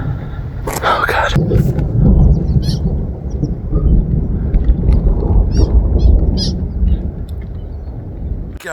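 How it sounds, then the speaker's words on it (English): A deep, loud roll of thunder rumbles on for several seconds high in the mountains near Huron Peak at about 13,500 feet, with wind noise and a few faint chirps over the low boom. "God, that sound makes me cringe up here. I mean, I love thunder,"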